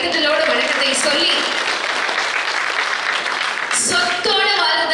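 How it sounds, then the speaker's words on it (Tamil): Audience at a Tamil comedy debate stage show applauds, a dense sustained wash of clapping that fills the clip, loud and continuous, with a brief pause near the end. "நல்ல ஒரு பலத்த கைத்தட்டலோட வணக்கத்தை சொல்லி"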